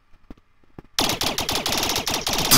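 Rapid automatic gunfire in the virtual reality game Rec Room, a loud sustained burst of evenly spaced shots that breaks in suddenly after a few faint clicks and taps.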